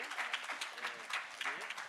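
A church congregation at a Sunday service applauds at moderate volume, steady clapping running throughout with voices mixed in.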